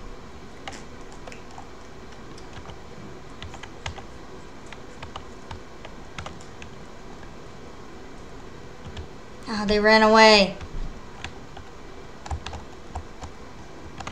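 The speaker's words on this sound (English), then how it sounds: "I heard typing." Soft, rapid keyboard clicks in the game Flee the Facility tap steadily at low volume throughout, with a brief spoken exclamation near the middle.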